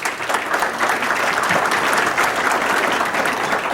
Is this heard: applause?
yes